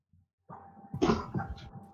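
A single sharp sneeze bursts out after a brief indrawn breath, close and fairly quiet, followed by a short trailing exhale.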